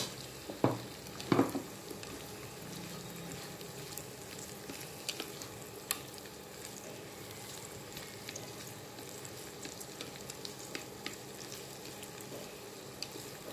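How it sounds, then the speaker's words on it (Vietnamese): Pork sizzles and crackles steadily in a hot pan while stir-frying, with a few louder clatters of stirring near the start, fairly quiet overall. "Mình cho thịt mình xào lên trước."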